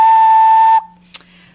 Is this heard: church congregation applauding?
no